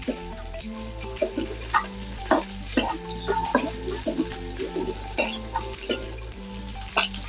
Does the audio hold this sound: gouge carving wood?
no